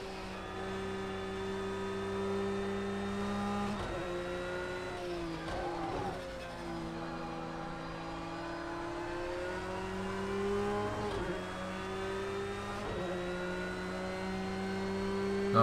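A race car engine in a PS4 racing game at the Fuji circuit drones and revs steadily, its pitch swinging up and down with several sharp dips and climbs as gears change, loud and continuous with no talking.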